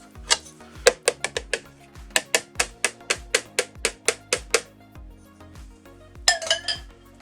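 A utensil clinks steadily against a bowl as cinnamon roll cake batter is stirred by hand, a regular run of bright taps followed by a brief scraping rattle.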